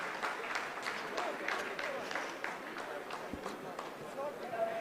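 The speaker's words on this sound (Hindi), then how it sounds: "जी हाँ, आप इस तालियों के गड़गड़ाहट को सुन सकते हैं," Scientists at mission control clap after the second phase of the Chandrayaan 3 lunar landing, a fairly quiet, busy patter of many hands heard from a distance, with a voice speaking over it.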